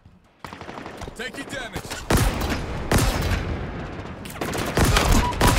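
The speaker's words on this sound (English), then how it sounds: "Oh god, I have Mangler shotgun." Mangler pistol and shotgun fire in a Halo capture-the-flag match, loud repeated blasts and rapid gunfire bursts that build into near-continuous shooting, with a player talking over the din.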